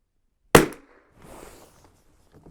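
A Savage Rascal .22lr rifle fires one sharp, loud shot, followed by faint handling noises and rustling.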